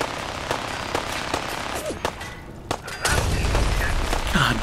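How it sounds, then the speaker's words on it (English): Rapid gunfire cracks out in close, loud bursts during Fallout 4 combat, with a sustained heavier stretch near the end consistent with a minigun firing. "Is that a fucking minigun?"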